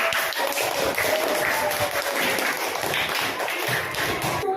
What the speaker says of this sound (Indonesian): Oke, tepuk tangan untuk kelompok pisang.